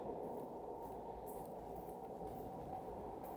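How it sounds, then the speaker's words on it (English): A steady, loud rumble of a subway train fills Bathurst subway station in Toronto, the low roar continuous and unbroken throughout. "I'm here at Bathurst subway station"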